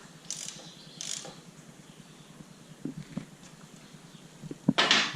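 A ratchet tightens a plug on a 2014 Harley-Davidson Dyna during a primary and transmission oil change: quiet, close clicking pawl strokes in short bursts, ending in a louder final flurry.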